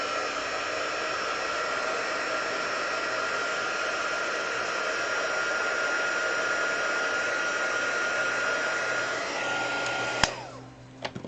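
Hair dryer blowing on freshly applied eye makeup, a loud steady whooshing hum that holds for about ten seconds, then clicks off, leaving a few soft handling bumps.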